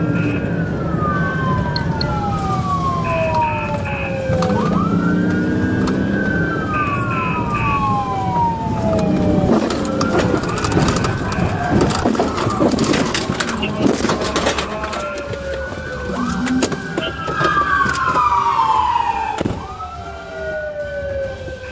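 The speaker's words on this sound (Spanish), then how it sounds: "Las sirenas sonaban, las luces destellaban" Police car sirens wail in sweeping rising and falling tones during a high-speed chase, loud and close, over road noise, bangs and a voice talking throughout.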